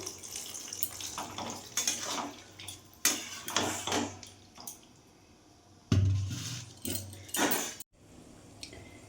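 Water is poured into a pan for chilli chicken in several short, splashy bursts separated by brief pauses, fairly close and moderately loud, with no talking.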